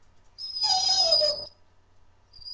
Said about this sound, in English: My dog likes to whine, so you're gonna have to listen to it.